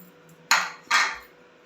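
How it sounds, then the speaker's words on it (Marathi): Millet semolina and moong dal go into a cooking pot with vegetables in two quick, distinct rattling bursts of grain against metal, close by, in an otherwise quiet kitchen. "आणि मुगाची डाळ घालून घेते आहे. सगळं एकजीव करून घेते आहे."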